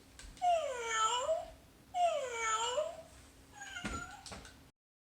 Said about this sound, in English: And check out this kitty.